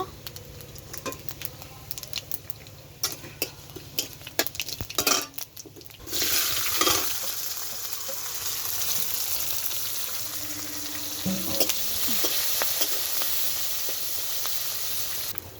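Chopped onion and five-spice fall into hot oil with a sudden burst of loud sizzling that settles into steady frying with a few stirring scrapes, after earlier clinks and handling noises.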